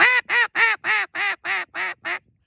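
A duck call blown to mimic a hen mallard gives eight evenly spaced, loud, raspy quacks in a steady descending cadence, each one close and clear with brief gaps between.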